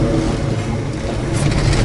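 A 1966 Chevrolet Chevelle SS engine idles with a dense, steady low rumble as it is shifted into reverse, heard up close and with no talking.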